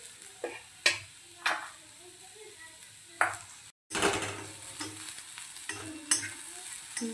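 Okra coated in gram flour sautéing in a pan, heard as a soft sizzle broken by repeated sharp scrapes and clinks of a spatula against the pan, with a brief silent gap midway.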